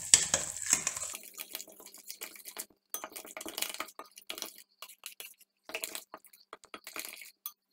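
A spoon stirs grated horseradish with vinegar and an emulsified milk and oil mixture in a bowl, giving soft, irregular wet scrapes and light clinks close by with short pauses between strokes.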